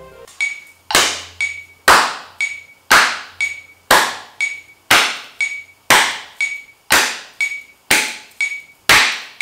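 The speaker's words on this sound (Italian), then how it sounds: "Dovete battere le mani al secondo click" Sharp hand claps land in a steady rhythm on every second beat of a clicking count, loud and close, each clap followed by a short ringing decay, with no talking.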